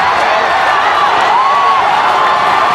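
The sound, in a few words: crowd cheering at rugby match, RFUEA ground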